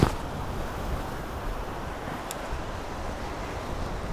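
Steady wind rushes over a microphone on a boat while angling for zander, a constant broadband roar with no talk and only a faint brief tick partway through.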